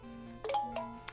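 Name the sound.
mobile phone ringing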